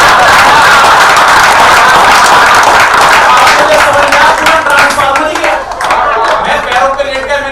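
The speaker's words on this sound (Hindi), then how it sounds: "हाथ उठा के तालियां सर के लिए चाहिए।" Crowd at a live stage show clapping loudly in a dense burst that gradually thins into scattered claps, with chatter and a voice rising underneath as it fades.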